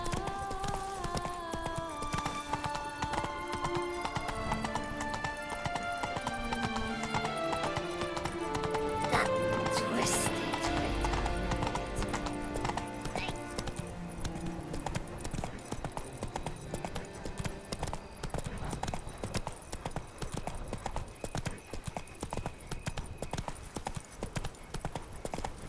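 Horse hooves clip-clop at a steady galloping rhythm in The Witcher 3: Wild Hunt, Blood and Wine, under a loud orchestral music score, with a brief whinny and occasional short spoken commands.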